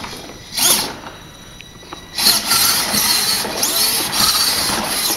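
The drive motors of a Vex ping pong shooting robot whir in short, high mechanical bursts, one brief spin and then a longer, uneven run of buzzing and whining, close to the microphone.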